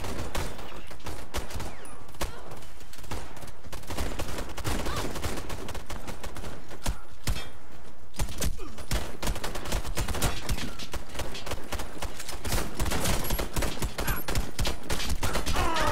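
Desert Eagle pistol fire in the online shooter Warface, during a team deathmatch on the Oil Depot map, comes as dense, loud, continuous battle gunfire with sharp shots and impacts and no pauses.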